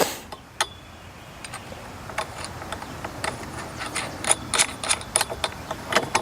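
A bolt pushed through a black pipe fitting and a nut threaded onto it, giving small, sharp metallic clicks and taps that come sparsely at first and then in a quicker cluster, close and quiet.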